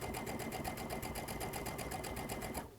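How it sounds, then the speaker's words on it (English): A sewing machine stitching a quarter-inch seam, its needle running in a fast, even mechanical rhythm close by before it stops abruptly at the end. "use our 1/4 inch seam and we're going to end stitching"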